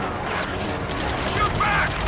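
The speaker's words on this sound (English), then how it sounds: "Taking fire! We're pinned down!" Gunfire from the combat flight game Ace Combat 7, in a ground rescue mission, heard as a steady dense rattle of battle noise under shouted radio chatter.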